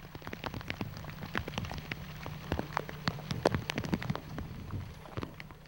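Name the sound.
rain falling on an island during monsoon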